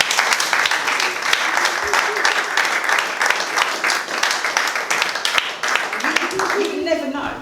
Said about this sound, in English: Give him a massive clap.